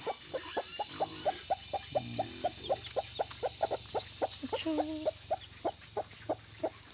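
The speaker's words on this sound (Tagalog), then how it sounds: "yung isang inahin dito is meron na siyang sisiw" A mother hen with her chicks gives a steady series of soft, rhythmic clucks close by, with faint chick peeps and a low background hum.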